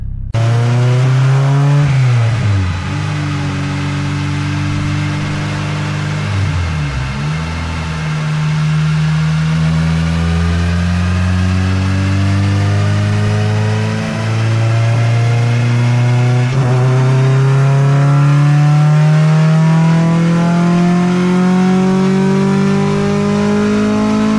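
2007 Honda Civic Si with a K24 engine on a dyno pull, loud and close, with a couple of quick revs followed by a long, steadily rising howl as the revs climb.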